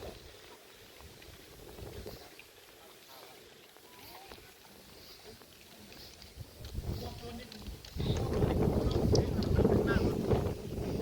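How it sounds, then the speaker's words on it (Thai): Gusty wind buffets the microphone with low rumbling roars, growing much louder and harsher toward the end, with faint voices underneath. "บ่ได้ยินนะลมพัดหู"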